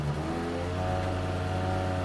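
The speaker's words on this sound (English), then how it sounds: "someone from the uninvited group outside began revving their car engine repeatedly" A car engine revs in sustained, droning pulls outside a woodland cabin at night, a steady low throaty roar that stays close and loud throughout.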